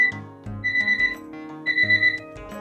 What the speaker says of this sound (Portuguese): Atingiu a temperatura que nós colocamos no alarme, 180 graus.